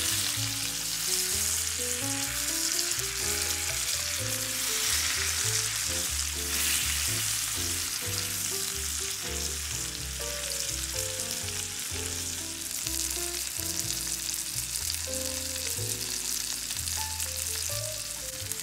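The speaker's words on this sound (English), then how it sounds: "as soon as you get the mahi-mahi into the pan, we're gonna turn the temperature down to medium." A mahi-mahi fillet sears in a hot pan, giving off a steady, loud, unbroken sizzle throughout with no talking.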